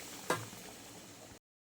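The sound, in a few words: curry with fried potatoes bubbling in the pan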